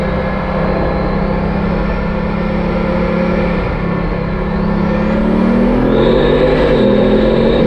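Bugatti supercar with a 1001-horsepower engine accelerating hard in first gear on a Dubai road: a loud, sustained engine roar with a rising pitch toward the end, heard from inside the car with no talk.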